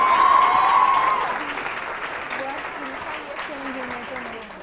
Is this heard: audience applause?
yes